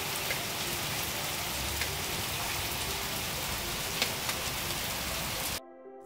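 Rain patters steadily on a surface close by, with occasional louder drops standing out, then the sound drops away suddenly near the end.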